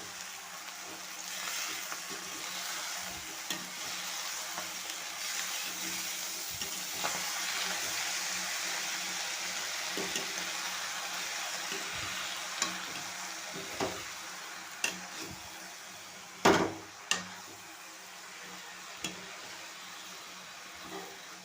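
Drumstick leaves with a pinch of salt are stirred in a pan over a soft, steady sizzle, with sharper spatula scrapes and clicks growing more frequent toward the end, no one talking.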